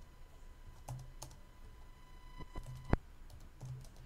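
Quiet, close keystrokes on a computer keyboard, a scattered handful of clicks typing a Linux command, with one sharper key hit standing out among the softer taps.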